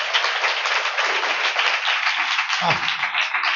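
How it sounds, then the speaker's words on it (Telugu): A crowd at a Hosanna Ministries church gathering claps hard and steadily, a dense, loud patter of many hands that fills the whole clip without pause. "చప్పట్లు కొట్టండి గట్టిగా అందరు."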